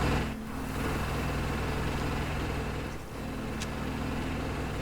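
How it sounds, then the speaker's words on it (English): A car engine idles steadily in The Vanishing of Ethan Carter, a low constant hum with a faint tonal drone underneath, moderately loud and unchanging, with no voices. "engine running"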